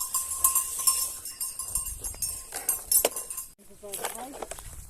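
A goat's bell rings in irregular metallic clinks and tinkles close by, partly under a person talking, on a homestead in Portugal.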